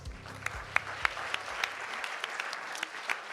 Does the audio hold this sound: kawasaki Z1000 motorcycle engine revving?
no